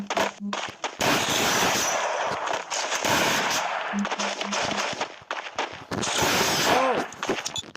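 Rapid gunfire in the mobile shooter game Free Fire, dense bursts of automatic shots and single cracks packed together almost continuously, loud and close, with a few game beeps and tones mixed in.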